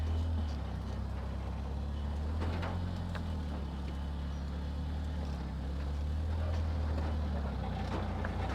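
A Toyota rock crawler with a broken cooling setup crawling in low first gear, a continuous deep engine drone with a low rumble that swells and eases, along with faint knocks and creaks from the vehicle.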